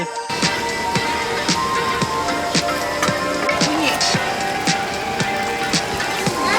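Rain falls at a campsite as a steady close patter with scattered sharper drops striking nearby surfaces, continuous throughout.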